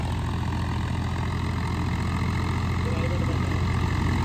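A 13-year-old tractor engine idles at 1800 rpm with a steady low rumbling throb, close and constant throughout.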